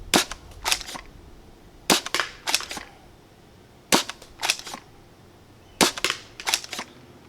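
Heavy foam darts fired from a Worker dart blaster: sharp, loud snapping shots close by, grouped in bursts of three or four with roughly two-second pauses between groups.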